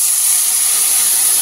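A splash of water poured onto masala frying in hot oil for a papad curry produces a loud, close, unbroken steamy hiss throughout, with no voices.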